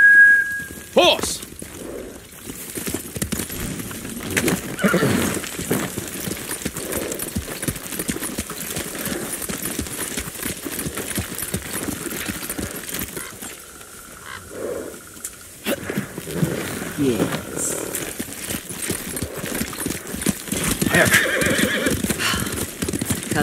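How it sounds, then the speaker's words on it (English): A horse in the video game Ghost of Tsushima whinnies and gallops, with steady clip-clopping hooves running throughout and several neighs, while voices talk over the ride. "Horse!"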